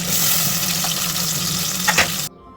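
Sliced onions and a spoonful of garlic paste frying in hot oil, a loud, continuous sizzle with a couple of brief utensil clinks near the end before it cuts off suddenly.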